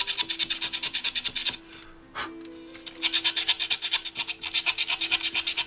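A stick rubs and scrapes into the nooks of a Yamaha R1 front wheel during priming, making rapid rhythmic rasping strokes that pause briefly in the middle, close and fairly loud.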